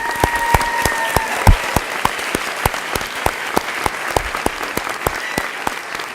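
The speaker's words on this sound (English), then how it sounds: "let's give you one final round of applause" A crowd at a 2013 graduate hooding ceremony applauds the graduates. Individual claps stand out as a sparse, fairly quick patter that keeps an even pace throughout.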